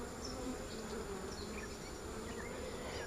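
Honeybees buzz around an open hive during an inspection, a dense, continuous drone close by with individual bees swelling in and out of the hum.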